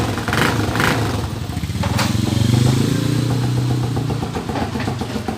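TMX 155 motorcycle engine converted to 200cc, running close and loud with a steady, slightly rough idle that rises briefly midway and settles again.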